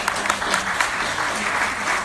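A seminar audience at a scholarship essay and interview workshop gives speaker Olivia a round of applause, dense, even clapping with no talking.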